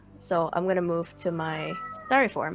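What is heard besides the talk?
pet cat meowing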